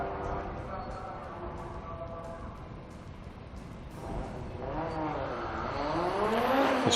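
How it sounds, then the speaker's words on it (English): Audi Quattro five-cylinder rally car with turbo at a historic racing meeting at Estoril, its engine note swelling as it draws nearer and accelerates past, under a commentator's continuous talk. "Hear that very distinctive off-kilter 5-cylinder engine"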